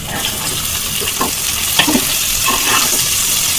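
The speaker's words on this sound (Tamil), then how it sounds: "வெடிச்சிருச்சு, பூண்டு போட்டு வதக்கணும்." Steady loud sizzling of garlic sautéing in hot oil, with occasional stirring scrapes, close up and continuous.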